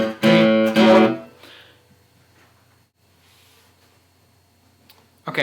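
An electric guitar plays a riff, moving from A5 to A6 with a distorted tone. Two loud, sharp stabs come in quick succession, followed by near silence with faint clicks, and another note begins at the very end.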